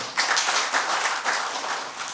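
An audience at a Tamil literary event claps in a brief, dense burst of applause, steady and fairly close, with no talking over it.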